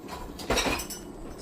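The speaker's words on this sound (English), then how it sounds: "I'm just going to use the fork to scoop it out" A metal fork scrapes and clinks against a pot while scooping out boiled Garofalo organic durum wheat spaghetti, with one brighter clatter in the middle of steady kitchen rattling, close and moderately loud.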